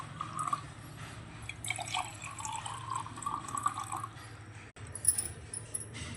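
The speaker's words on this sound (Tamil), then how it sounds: "இதில் வந்து பார்த்திங்கன்னா கொஞ்சம் தண்ணி ஊற்றிக்கோங்க" Water trickles and drips into a container for washing with soap, a light splashing pour close by with small clinks, fairly quiet.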